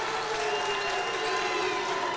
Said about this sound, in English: He's leading the cheer.